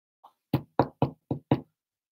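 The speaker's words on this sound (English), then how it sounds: "can you hear the knock at the door?" Knocking on a castle door on a stormy night: one light tap, then five firm, evenly spaced knocks, close and dry, with silence between and after them.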